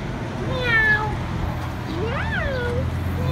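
A cat meows twice, the second call a rising and falling wail, over a low background hum.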